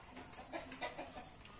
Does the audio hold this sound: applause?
no